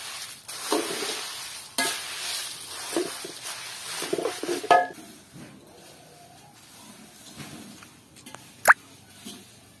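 Coriander seeds dry-roast in a pan for homemade village-style curry powder, giving dry rustling and scraping stirs with light crackles, busier early on and then quieter with a sharp clink near the end.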